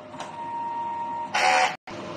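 A DTF printer runs a print head cleaning cycle: a steady mechanical hum with a thin whine, then a louder burst of whirring pump and carriage noise, a brief cutoff, and the hum resuming.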